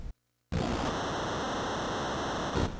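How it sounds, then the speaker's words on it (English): Crowd noise from an NES wrestling video game, a flat hiss like white noise that starts abruptly after a brief silence and holds steady and moderately loud throughout. "And is that supposed to be the audience? It sounds like white noise."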